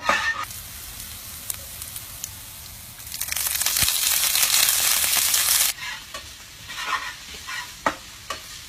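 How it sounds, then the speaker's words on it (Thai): Oil sizzles and crackles in a hot wok, swelling into a loud, steady hiss for a few seconds before dropping back to scattered pops and stirring clinks. "พอกระทะร้อนนะคะ แล้วก็ ใส่น้ำมันนะคะแล้วก็ตั้ง ให้น้ำมันเดือดนะคะ"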